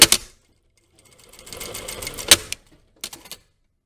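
A sewing machine stitches two layers of a lined jacket vent together within the seam allowance, with short close bursts at the start, a longer steady run in the middle, then a final brief burst.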